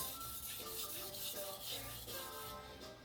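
Double bevel kitchen knife drawn across a flat whetstone, producing close, steady rhythmic rasping strokes of abrasive rubbing, quiet and alone without any voices.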